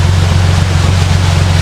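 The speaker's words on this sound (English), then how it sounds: "A lot of water coming in as well." Water rushing into a narrowboat canal lock, a loud, steady churning roar with a deep low rumble, heard alone and close.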